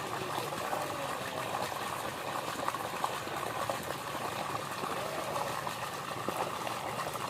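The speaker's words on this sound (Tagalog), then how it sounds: "Dagdag po kami ng tubig ngayon dito sa aming fish pan." Water pouring steadily into a tilapia fishpond, a continuous broadband rushing and bubbling gush that holds at an even level throughout, with no voices.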